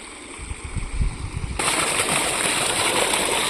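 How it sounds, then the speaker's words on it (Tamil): Irrigation water from the Amaravathi canal flowing through a channel beside a paddy field, a steady close rushing and gurgling that grows louder and fuller partway through, with no talk. "தண்ணி ஆடி பாஞ்சிட்ருக்குதுங்க"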